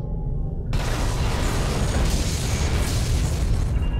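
A Borg vessel exploding in the space combat game Star Trek: Legacy, a sudden loud booming blast that opens into a dense, sustained roar lasting several seconds.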